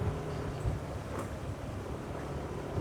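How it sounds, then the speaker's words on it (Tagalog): Strong wind at a hillside campsite beside rice terraces, a steady broadband rush buffeting the microphone throughout, loud and close with no talking. "Lakas ang hangin."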